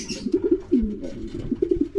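Racing pigeons cooing in soft, repeated throaty bursts at a loft, several birds close by with steady low murmuring and occasional wing rustles.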